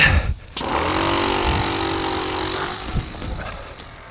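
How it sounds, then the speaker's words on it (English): A compressed-air engine on a model plane starts with a sharp burst and then runs as a steady, loud buzzing drone that holds for several seconds at close range, with no voices. "And start the engine."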